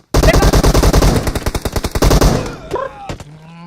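Automatic weapon fire in PUBG Mobile: a loud, rapid burst of gunshots in a steady rhythm for over two seconds, trailing off into scattered quieter shots and game sounds.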